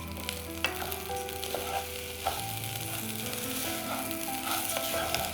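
Rice, peas, oil and onion frying in a pan while being stirred, a steady close sizzle with occasional scraping and clinks of the spoon, no talking.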